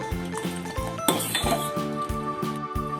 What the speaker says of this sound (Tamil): இப்போ இதை ஒரு பவுலுக்கு மாற்றிடலாம்.